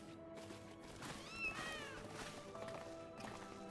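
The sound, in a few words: cats meowing in Final Fantasy XIV video game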